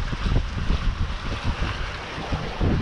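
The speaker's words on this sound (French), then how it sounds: "le vent vient vraiment comme ça" Strong wind buffets the microphone in a constant low rumble with gusty swells, over a wash of outdoor water noise.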